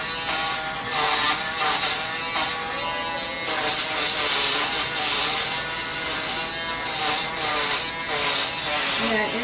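Electric clippers buzz steadily as they shave a woman's head, a continuous close-up mechanical drone with rasping texture that runs the whole time, with voices talking now and then over it.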